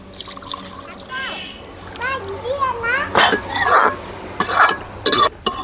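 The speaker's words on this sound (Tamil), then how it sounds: "அதுக்கு போதுமான தண்ணி ஊற்றிக்குங்க." Water is poured into a pan of beetroot kurma and the curry is stirred, giving soft splashing, sloshing and scraping close by, with children's voices chattering in the background.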